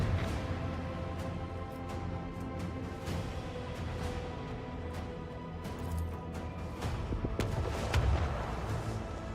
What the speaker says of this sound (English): Fire the lance battery!